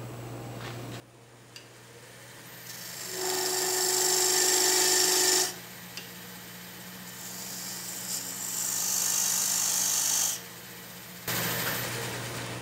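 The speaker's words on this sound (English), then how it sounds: "So I just took a narrow parting tool and defined the bottom and the top of my vessel." Narrow parting tool cutting into a madrone hollow form spinning on a lathe, in bursts of whining, high-pitched scraping separated by pauses with a steady motor hum underneath.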